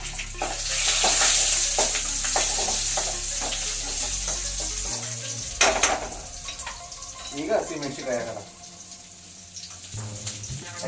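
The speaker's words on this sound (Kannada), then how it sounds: "ಕರ್ಬೇವಿನ ಸೊಪ್ಪು ಚಟಪಟ ಚಟಪಟ ತಿಳಿಬೇಕು" Curry leaves splutter in hot oil in a pan while cooking chicken pepper dry, with loud crackling sizzle and stirring scrapes that thin out into sparser pops and clatter.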